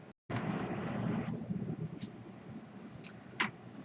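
Scissors snip steadily through a paper piece for a mini album, a close, soft crunching cut that runs for about a second, then fades into faint clicks and light handling sounds.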